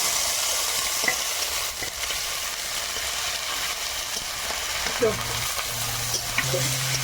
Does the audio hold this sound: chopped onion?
yes